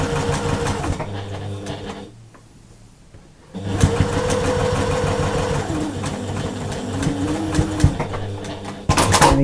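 A sewing machine runs steadily while stitching the seams of a patchwork cushion, with a dense, continuous mechanical whir. It pauses for about a second and a half, then resumes, and a brief louder burst comes near the end.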